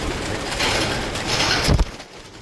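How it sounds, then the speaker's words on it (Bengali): Pigeons flutter and beat their wings inside cages, a close, dense rush of flapping and rustling that swells and ends in a short sharp clatter. "এখানকার পায়রাগুলো তো ভয়ে উড়ে বেড়াচ্ছে"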